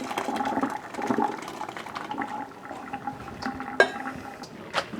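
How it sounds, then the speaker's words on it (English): Cooked macaroni and its hot water pour into a colander in a kitchen, a soft continuous splashing and draining with a few light metallic clinks, fairly quiet throughout. "now we have to put it into the colander"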